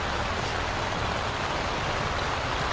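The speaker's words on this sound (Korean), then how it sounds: "지금 이렇게 비가 쏟아지고 있어가지고 철수하는 게 걱정입니다" Heavy rain pours over a campsite at Namyangju's Hyurim campground, a dense, unbroken hiss that fills the whole stretch evenly with no voices or pauses.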